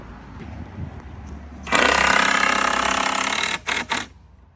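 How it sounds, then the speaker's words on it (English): A power drill drives construction screws into wood while a volleyball rebounder is being built: a loud steady whirring burst for about two seconds, then two short trigger pulses, close by. "now you just screw it all together"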